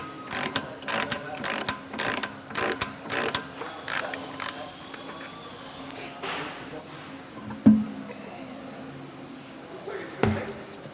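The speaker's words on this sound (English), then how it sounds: "Using a 3/4 inch wrench, break them loose." Quick rhythmic clicking of a ratchet wrench loosening exhaust pipe bolts under a Porsche GT4 RS, several close bursts of clicks followed by quieter handling and a couple of sharp metallic knocks.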